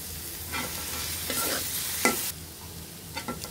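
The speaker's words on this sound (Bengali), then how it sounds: "এখন একসাথে সবটা উপকরণ ভেজে নিব" Flat hill beans and chopped coriander leaves fry in a pan, soft sizzling broken by a few scraping stirs, the loudest around the middle, close and with no talk.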